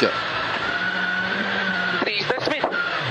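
A Skoda Fabia R5 rally car at the Acropolis Rally drives past with a loud, steady engine drone, rising into a few sharp revving bursts and possible tyre scrabble toward the end.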